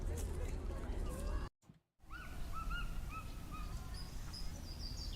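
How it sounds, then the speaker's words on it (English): Birds calling in New York's Central Park, a field recording with several clear chirps and short whistled calls at moderate distance over steady ambient noise, cut by a brief silent gap. "Birds."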